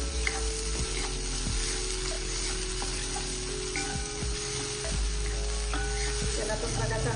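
Ginger garlic paste sautés in a hot pan, giving a loud, continuous sizzle and fry with occasional stirring scrapes throughout.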